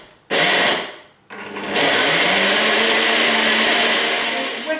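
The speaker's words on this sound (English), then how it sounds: "I'm going to pop the lid on, and I'm going to blend all of these ingredients together" Countertop blender blending apple and cinnamon flapjack ingredients into a toffee-like mixture, a loud close motor whir that starts, stops briefly after a second, then runs steadily at high speed.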